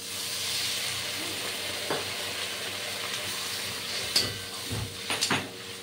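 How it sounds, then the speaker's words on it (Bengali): Water is poured into a hot pan of eggplant and potato for a pabda fish curry, bringing a steady hiss and sizzle. A few sharp scrapes and clinks come near the end, close by, with no one talking. "এবার আমি জল দিয়ে দিলাম"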